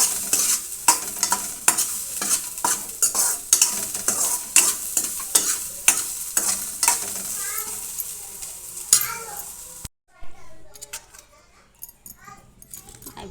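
Onions fry in plenty of oil while a spatula scrapes and taps the pan in a steady rhythm over a constant sizzle, close and loud, then the stirring stops briefly and resumes more quietly; faint voices can be heard.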